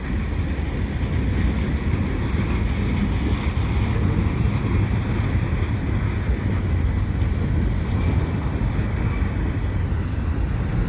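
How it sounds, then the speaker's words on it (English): A CP freight train hauling TTC streetcars rolls past at Dorval, a steady broadband rumble of wheels on rail with faint clatter, heard at moderate distance and continuing unbroken without speech. "So quite an interesting train, actually."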